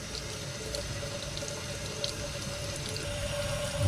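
Tap water runs steadily into a sink while a high-flow air intake filter is rinsed clean, a close, continuous splashing wash with faint clicks and no talking.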